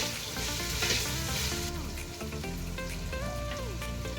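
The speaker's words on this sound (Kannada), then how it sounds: "ಶುಂಠಿ ಬೆಳ್ಳುಳ್ಳಿ ಪೇಸ್ಟ್ ಹಾಕಿದೀವಲ್ಲ, ಸ್ವಲ್ಪ ತರದಲ್ಲಿ ಕುತ್ಕೊಂಡ್ಬಿಟ್ಟಲ್ಲ, ಹಾಗಾಗಿ ಆಗ ತಿರ್ಸ್ಕೊತಾ ಇರಬೇಕು" Ginger garlic paste fries in a pan while being stirred for chicken biryani, producing a dense, continuous sizzle with tonal music playing alongside.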